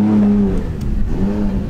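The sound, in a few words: tuned car with new turbo on a test run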